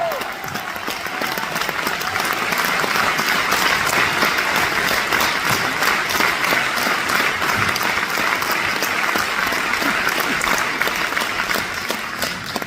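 Steady, sustained applause from a seated audience at a literary-musical evening in Pasadena, California, dense clapping that builds within the first second and stays loud and even for over twelve seconds.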